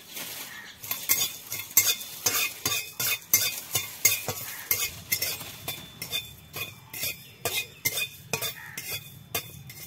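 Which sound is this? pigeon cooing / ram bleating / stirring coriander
stirring coriander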